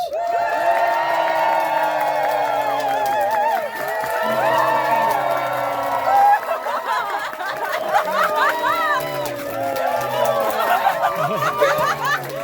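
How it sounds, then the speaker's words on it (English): A lively Edinburgh Fringe audience cheers and claps continuously, with whoops and chatter rising throughout. "Keep the applause going for Sullivan by round!"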